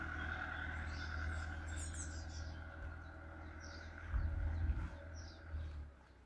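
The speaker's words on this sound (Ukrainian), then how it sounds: "пташечки співають" Birds chirp faintly in the distance in scattered bursts over a steady low background hum, on a sunny morning in Italy.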